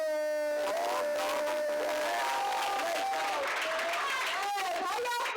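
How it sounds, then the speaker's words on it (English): At an open mic night, a crowd breaks into loud applause mixed with whooping cheers and high shouted voices, sustained and energetic throughout. "I need everybody to give a great big round of applause for"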